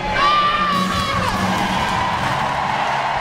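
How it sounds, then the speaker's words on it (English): A large crowd at a Commonwealth Games athletics event cheers and roars, a sustained loud wash of voices with a rising whoop near the start, echoing in a big stadium. "Certainly not the only huge cheer echoing across the game city"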